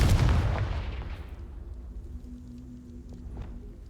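A Confringo fire spell from Hogwarts Legacy bursts in one loud, close boom at the start, then rumbles and fades out over a few seconds with no talk.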